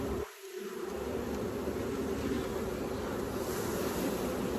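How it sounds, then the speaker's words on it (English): Dense, steady buzzing of many honey bees spilling out over the top of a hive box, a close, continuous drone that swells after a brief quiet moment at the start. "And it's just overflowing bees too."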